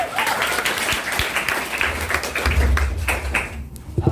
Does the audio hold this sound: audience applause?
yes